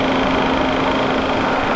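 A steady mechanical whir with a constant hum from a Mazda MX-5 radiator cooling fan running close by, continuous and unchanging throughout with no talking.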